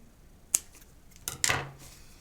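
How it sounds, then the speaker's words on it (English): Scissors snip through yarn ends while finishing a handmade yarn basket: a sharp single cut, then a second longer double snip a moment later, close and fairly quiet. "And then use your scissors to trim off both ends."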